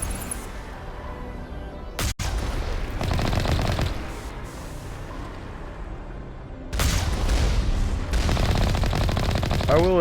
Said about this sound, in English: I like the cannon. The cannon sounds sick.